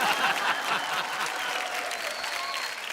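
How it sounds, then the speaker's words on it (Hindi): Studio audience applauding on a Hindi comedy talk show with Amitabh Bachchan and Shatrughan Sinha, a steady dense wash of clapping from a sizable crowd, loud and close, lasting throughout. "तालियां।"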